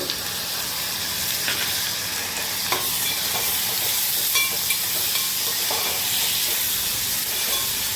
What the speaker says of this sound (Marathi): कांदा थोडा लालसर झाल्यावर टोमॅटो टाकायचा।